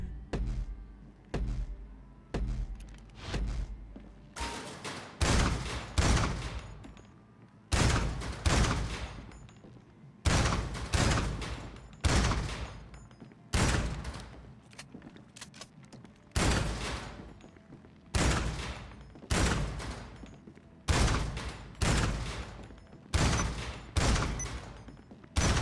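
Assault shotgun fire in a video game, heavy booming shots in irregular clusters separated by short pauses, each blast loud and decaying quickly, with no talk.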